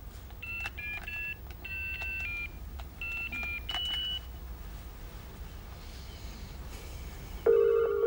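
Telephone line on a phone tap, several short rings and dialing beeps in clustered bursts over a steady low hum, ending with a louder sustained tone.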